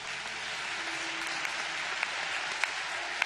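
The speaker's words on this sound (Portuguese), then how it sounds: "Vamos receber esse casal com uma calorosa salva de palmas." Audience at a church service gives a couple a warm round of applause, a steady wash of many hands clapping with a few sharper claps standing out near the end.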